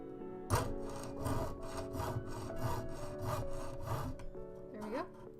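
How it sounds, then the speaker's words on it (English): A fine-toothed jeweler's saw rasps back and forth in quick, regular strokes, close up, with no speech. "Now over to the right here, and I'm going to keep on sawing."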